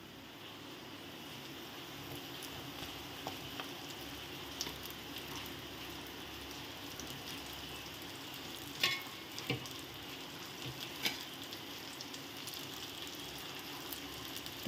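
Onions with green and dried chillies fry in a wok (kadai) and give a soft continuous sizzle, with a few scraping clatters as ingredients are added and stirred, faint and close.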